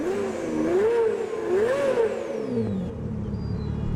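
A Pagani supercar engine in a video game revs up and down in sweeping pitch swells, a smooth mid-toned whir rising and falling twice before easing off, clear and near with no talking.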